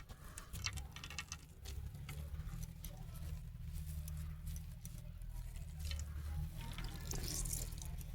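Water from soaked lentil batter drains through a net strainer with a steady patter and trickle, close and fairly quiet, plus a low continuous hum underneath.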